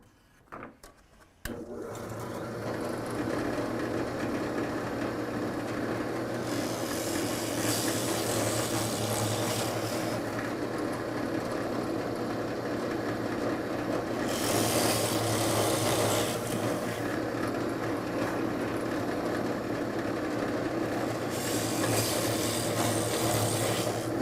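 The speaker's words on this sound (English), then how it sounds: "We're going to drill a 7/8 inch hole using our Forstner bit." A drill drives a 7/8 inch Forstner bit into wood in a garage workshop, a steady grinding whir that starts abruptly after a short pause and holds for over twenty seconds, with louder cutting surges partway through.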